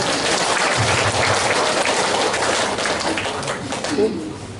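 A crowd at a women's church retreat opening service in Timika applauds an honored guest, a dense, steady clapping that fills the hall and tapers off toward the end.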